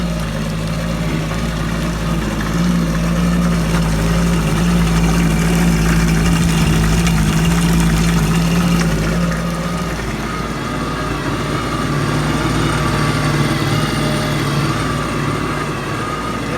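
A jet ski engine recovered after sinking runs steadily as it warms up, a loud continuous idling drone with a low hum that holds the same level throughout, no voices over it.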